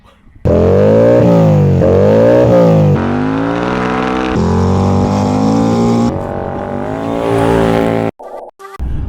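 An Indian Motorcycle FTR750 flat track racing motorcycle engine revs hard nearby, its pitch climbing and dropping in repeated loud blips and sustained high revs, then cutting off abruptly near the end.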